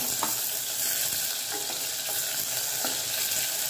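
Chopped tomato sizzles in hot oil with onion and ginger-garlic paste, a steady close frying hiss with a few soft stirring scrapes and no talking.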